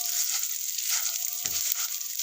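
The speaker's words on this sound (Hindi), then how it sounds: "पाउडर ऐड कर लिया और इसको हल्का सा हमने भून लेना है, हल्का सा फ्राई करना है।" Gond (edible gum) powder fries lightly in ghee, giving a continuous bright sizzle with faint stirring and a small utensil knock midway.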